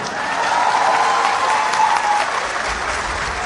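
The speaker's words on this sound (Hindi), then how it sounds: "इनके लिए बहुत भरपूर तालियां" Audience applause for a poet at a poetry gathering, a full, steady wash of crowd clapping that holds evenly for a few seconds, with faint voices underneath.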